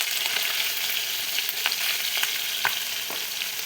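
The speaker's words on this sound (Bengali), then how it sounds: "মাছটা বেশি ভাজবো না, বেশি ভাজলে মাছটা খেতে ভালো লাগবে না" Bata fish fry in hot oil with a steady crackling sizzle close up, broken by sharper pops and spatters scattered throughout.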